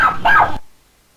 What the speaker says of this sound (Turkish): önce bir yemek yeme sesi sonra havlama sesi geliyor